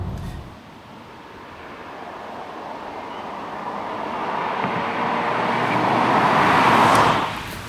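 Road and tyre noise inside a 2019 Peugeot 508 GT sedan on the Autobahn, a broad steady rumble that swells gradually louder before easing off near the end, with no talking.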